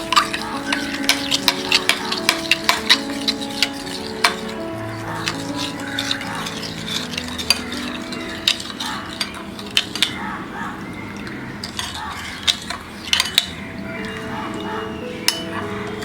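A spoon stirring a dish washing liquid cleaning mixture for copper vessels in a bowl, rapid repeated scraping and clinking strokes, close and fairly loud throughout.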